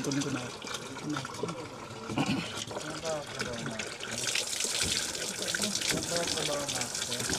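Water runs from a tap in a continuous splashing stream that grows louder partway through, with people talking over it.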